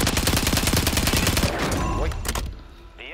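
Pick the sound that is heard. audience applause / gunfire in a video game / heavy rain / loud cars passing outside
gunfire in a video game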